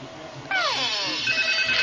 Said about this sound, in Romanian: Telefonul!